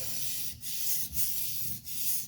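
The edge of a TRM Atom knife is sharpened freehand with steady, close, hissing abrasive strokes, broken by three brief pauses.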